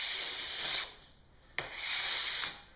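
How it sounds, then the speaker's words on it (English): A curved-edge scraper drawn along a snowboard base during base repair, giving two rough, hissing scrape strokes, each just under a second, close and fairly loud with a short pause between them. "scrape"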